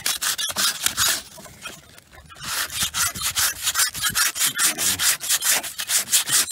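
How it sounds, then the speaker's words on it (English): Rat tail file rasping back and forth over filler on a Corvette C3 dashboard, a steady run of quick, close scraping strokes with a brief pause partway through. "and a rat tail file, and I'm gonna start cleaning this up and start shaping it"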